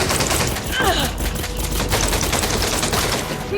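A silenced pistol fires in the Elite Dangerous Odyssey video game, a dense, rapid run of muffled shots that continues without a break from start to finish.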